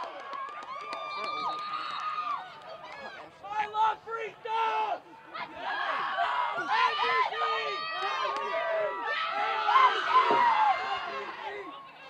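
A crowd at a Peabody high school soccer match against Somerville cheers and shouts after a tying goal, a loud, close roar of many voices with whoops and screams rising and falling for several seconds.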